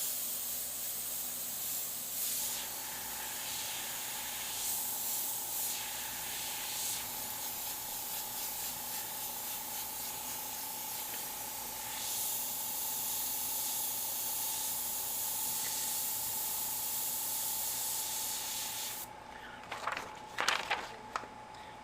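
Airbrush hissing continuously as it sprays paint over a cut stencil, a steady airy spray that stops near the end, followed by a few soft handling noises.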